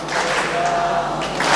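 A gathering at a saint's appearance-day religious discourse claps along during devotional chanting, producing a steady wash of many hands that sounds moderately quiet and somewhat distant, with no voices standing out.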